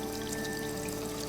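Water splashed onto a face in the video game Rue Valley, a short steady wash of pouring, trickling liquid running throughout without pause, fairly quiet and close, with faint tonal game music beneath.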